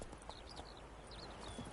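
A horse's hooves clip-clop at a walk in The Witcher video game, a soft, steady patter of beats sitting under faint ambient game noise.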